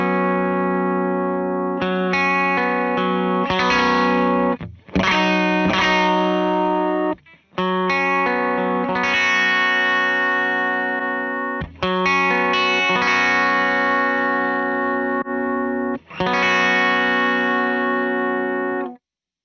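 Sustained electric guitar chords ring out through an LVX modulation pedal, with a subtle wavering warble and brief gaps between phrases.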